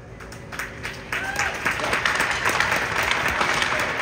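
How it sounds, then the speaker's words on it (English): An arena crowd at a St. Isidore hockey tournament applauds the Charlemagne Rebels, a dense wash of clapping that builds after the first second and holds steady throughout. "A big round of applause for the Charlemagne Rebel!"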